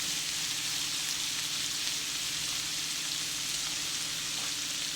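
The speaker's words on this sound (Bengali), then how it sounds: "এই তিনটাকে একটু ভাজা ভাজা করে নেব, এবং শুটকি থেকে একটা সুন্দর গন্ধ বের হবে ভাজতে ভাজতে" Dried fish (shutki) frying in a pan with onion and garlic, giving a constant, even, hissing sizzle close by with no pauses.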